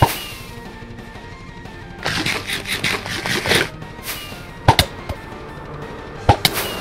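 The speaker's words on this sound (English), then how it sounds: "it's so difficult with the firework rockets" Several sharp bangs and bursts of crackling noise from firework rockets in a Minecraft-style video game during aerial combat, a cluster early on and a few isolated pops later, loud and close with no voices.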